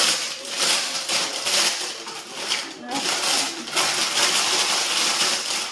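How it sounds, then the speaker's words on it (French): Parchment baking paper being crumpled by hand for a loaf cake tin, a loud, continuous crackling rustle with bursts and a brief pause, close up. "je la froisse. Désolée pour le bruit."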